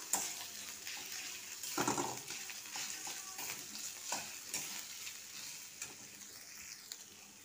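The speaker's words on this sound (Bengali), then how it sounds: "আদাটা ভালো করে ভাজা হয়ে গেছে" Ginger frying in a pan for moong dal, a soft steady sizzle with occasional stirring scrapes and brief bursts, fairly quiet and without speech.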